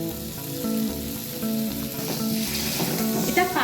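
Black mustard paste sizzles in a pan of spices for a vegetarian potato and stem curry, stirred with repeated rhythmic utensil scrapes over a steady frying hiss, close and without talking.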